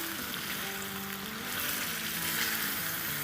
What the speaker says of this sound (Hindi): चिकन को हाई फ्लेम पे 5 मिनट के लिए भून लेंगे।